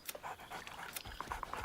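Dog in Baldur's Gate 3 whining and panting, with short breathy pants and a few high whimpering tones near the end, soft and close, under faint game ambience.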